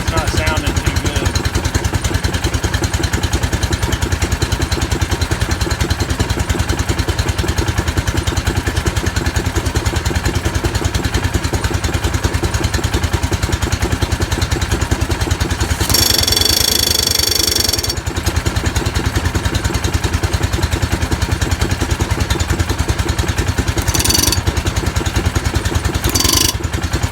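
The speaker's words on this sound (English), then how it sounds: "This one right here is about had it. As you can tell, it's not sounding too good." A worn-out air compressor runs continuously and loudly, its steady mechanical drone carrying a rough, knocking clatter, with brief harsher bursts partway through.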